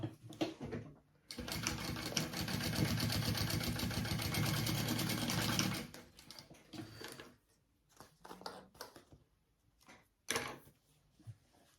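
A sewing machine bastes the card slots of a phone sling bag, running in one steady mechanical burst of rapid stitching for about four seconds, followed by scattered clicks and handling noises of fabric and the machine.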